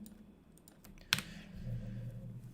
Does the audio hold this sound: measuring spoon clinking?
no